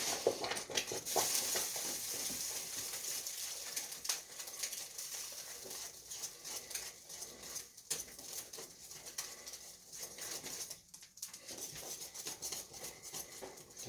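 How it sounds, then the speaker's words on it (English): Coconut paste stirred in a pot over the heat gives soft scraping and bubbling patter, with faint sputtering, a quiet steady texture throughout. "Just have to stir it,"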